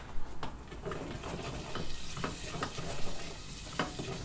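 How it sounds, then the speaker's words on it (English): Caramelised onion and pancetta being stirred in a pan, a steady frying sizzle with soft scraping strokes and occasional light clicks of the spoon against the pan. "I'm just going to stir this."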